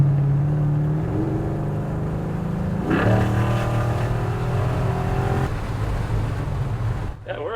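A '79 GMC Street Coupe with a freshly tuned transmission drives along the road, its engine droning steadily and shifting pitch as it pulls, with cabin rumble and people talking over it throughout.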